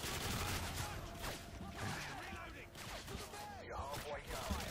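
Gunfire in the Modern Warfare 2 Spec Ops video game, with dense, continuous bursts of rapid shots and impacts in a noisy firefight, loud and sustained, with speech mixed in.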